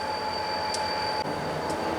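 NYS&W locomotive 3040 rolling along the Schuyler Street branch tracks in Utica, New York, a steady low rumble with a faint tonal whine and a couple of brief metallic clicks, heard without talk.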